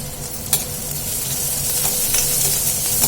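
Chopped onion and green chilli sautéing in a pan for a gokarakaya sesame-spice curry, giving a steady, even sizzle with occasional stirring scrapes, close and continuous with no voices.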